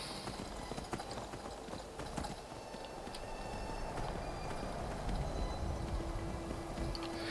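Video game horse hoofbeats clip-clop steadily at a trot over a constant background hum, with faint scattered ambient sounds; no talking.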